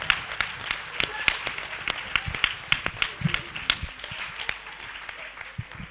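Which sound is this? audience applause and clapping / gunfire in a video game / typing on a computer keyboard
audience applause and clapping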